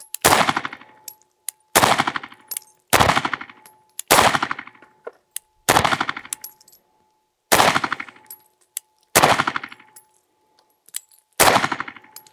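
SIG P365 pistols fire at a shooting range, each shot ringing out sharp and loud with a short reverberant tail. About nine shots come at regular intervals of roughly one to one and a half seconds.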